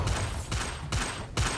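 A Bombarda spell blast in a Harry Potter–style video game duel against goblins, several sharp explosive bursts in quick succession within a couple of seconds, loud and close.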